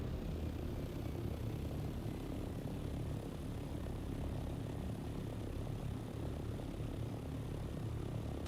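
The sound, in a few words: glider aircraft flying in a video game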